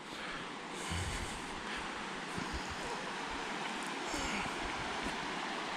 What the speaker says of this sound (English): Do love the sound of water at night.